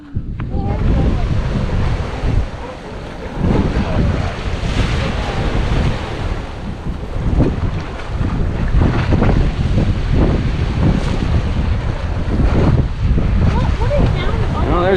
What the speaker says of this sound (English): Oh, there's a blowhole right there, Lincoln.